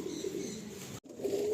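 Pigeons in a loft, low soft cooing notes repeating under a constant bed of background noise, close and fairly quiet, with no talk.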